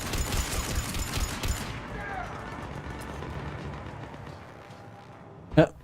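Rapid gunfire bursts in the video game Mass Effect 3 crackle densely for a couple of seconds, then fade into quieter combat noise with a sharp thump at the end, with a player talking over the action.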